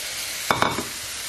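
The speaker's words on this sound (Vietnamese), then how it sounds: "gà sau khi rán xong đổ mỡ ra thì bây giờ sẽ đổ luôn cái sốt này vào đấy rồi cho nó sệt sệt lại chút là được thôi" Sauce poured into a pan of freshly fried chicken, with the fat drained off, gives a steady hiss and sizzle, broken by two or three brief louder stirring or spattering bursts at close range.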